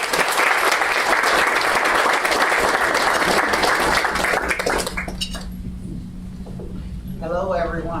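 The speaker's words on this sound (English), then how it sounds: "Please give them a round of applause." An audience at a healthier-communities launch event in New York City gives a loud round of applause that fades after about five seconds, leaving a quiet room where a voice begins speaking.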